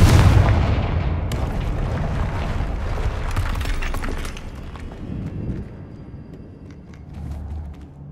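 A Confringo spell blast in the Hogwarts Legacy video game: a loud booming explosion that rolls into crackling debris and a long fading rumble.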